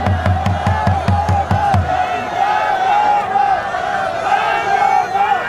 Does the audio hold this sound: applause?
yes